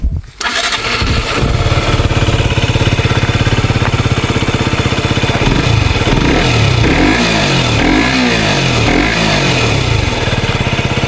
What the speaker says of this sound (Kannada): ಎಕ್ಸಾಸ್ಟ್ ನೋಟ್ ಕೇಳಿಸ್ತೀನಿ ಬರ್ರಿ.